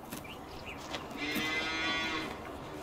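Cattle in the Farming Simulator 19 game letting out several overlapping moos, a low drawn-out lowing rising midway over faint farm ambience.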